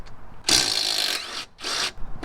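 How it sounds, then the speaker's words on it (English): Impact wrench zipping out car shock absorber bolts during a suspension job, two loud close bursts of rapid hammering, a longer one followed by a shorter one with a pause between. "I will be using an impact to go ahead and take these out."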